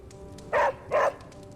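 Two sharp barks from Charlie, a dog in the video game Marvel's Midnight Suns, about a third of a second apart, loud and close over a low steady background hum.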